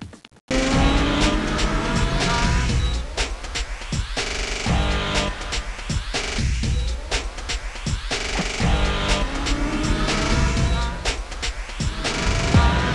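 Racing motorcycles in a national road racing championship at Turagua scream past one after another, engines rising and falling in pitch as each bike passes, loud and continuous.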